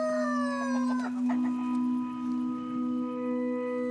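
A rooster in Kamchatka crows close by in one long, loud, drawn-out call over a steady background hum.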